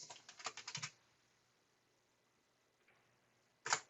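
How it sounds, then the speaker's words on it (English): Keystrokes on a computer keyboard as a command is typed into a command line, a quick burst of close taps followed by quiet, then one more short cluster of keys at the end. "You can type in options on the command line"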